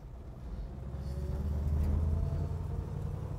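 A 1968 Chevrolet Impala on the road, its engine humming steadily from inside the car and swelling slightly as it accelerates, with a constant low rumble and no voices.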